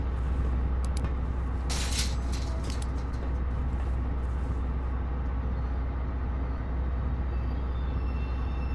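Bus in the video game Condemned 2: Bloodshot: a steady, loud low engine rumble runs throughout, with a brief hissing air-brake burst near the start and no talking.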